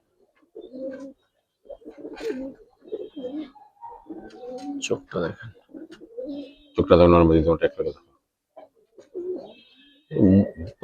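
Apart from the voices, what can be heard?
pigeons cooing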